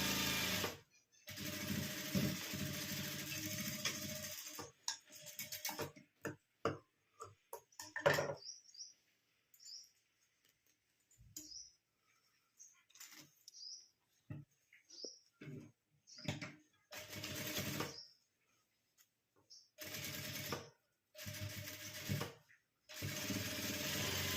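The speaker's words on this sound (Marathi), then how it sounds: "आपल्याला पक्की टीप मारून घ्यायची आहे" A sewing machine stitches a makeup pouch sewn from blouse-piece fabric, whirring in short stop-start bursts with quiet gaps between them, fairly soft overall.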